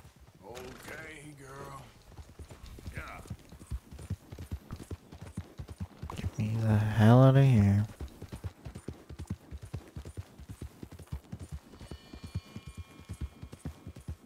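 Horse hooves clip-clopping steadily in the video game Red Dead Redemption 2, a continuous rhythmic trot close by, with someone talking over it in places.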